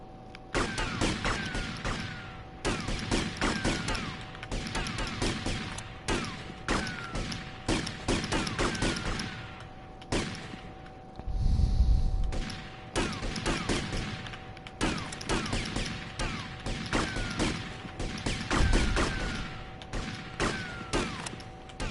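Bursts of automatic gunfire from Grand Theft Auto: Vice City ring out in rapid, repeated volleys across the scene, with heavy impacts and brief pauses between strings of shots.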